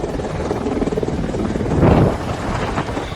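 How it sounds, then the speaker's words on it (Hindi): Apache attack helicopters land at an Indian air base in Ghaziabad, a loud, steady rotor and engine roar that swells briefly toward the middle. "3 अपाचे हेलीकॉप्टर गाजियाबाद के इंडियन एयरबेस पर गरजते हुए उतरे"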